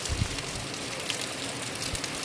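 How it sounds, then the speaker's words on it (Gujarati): Rain falls steadily outdoors during a monsoon shower, making a dense, even patter across the whole stretch, with no talking. "ત્યાં તો વરસાદ પણ શરૂ થઈ ગયો છે"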